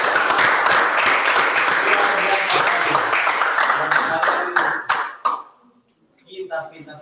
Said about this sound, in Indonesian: Kita berikan aplaus untuk kedua kelompok ini.